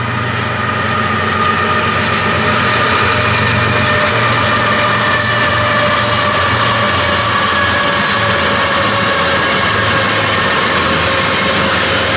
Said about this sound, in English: Very good speed on this train. 4 locomotives pulling it.